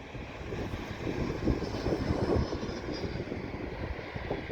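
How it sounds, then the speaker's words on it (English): A passenger jet flies overhead, its engine roar swelling to a peak about midway and then easing into a steady, moderately distant rumble, heard alone without talk. "Oh, it's a passenger plane."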